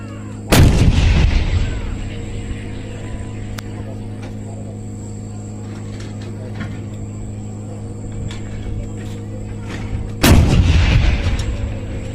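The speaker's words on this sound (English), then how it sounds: "The gun will now fire a burst of 3 rounds in area diamond." Automatic artillery gun with an automatic loading system, fired in bursts: two heavy, loud blasts about ten seconds apart, each followed by a rolling rumble and decay over a steady low mechanical hum.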